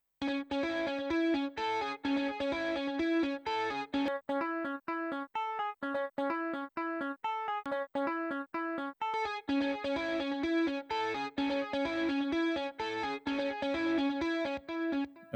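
Electric guitar played through an Amplitude amp emulation with delay and compressor, a bright, sustained picked melodic line that runs continuously with repeating echoes and a short sparser break midway, heard alone.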